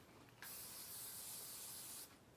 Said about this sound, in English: We're gonna spray it down with some Pam.